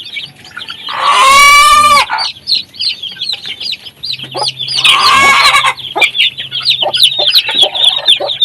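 Backyard hens, part of a flock grown from three laying hens, cluck and squawk loudly and near in two bursts, with lighter clucks and chirps between them and no talk.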